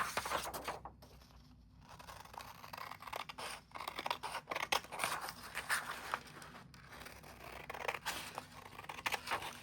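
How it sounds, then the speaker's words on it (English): Scissors trim paper for a junk journal, a run of close, crisp snips and cutting scrapes with short pauses between strokes. "Let me trim this off."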